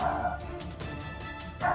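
Stray dogs bark outdoors, a few short distant yaps and woofs scattered over a steady background hum.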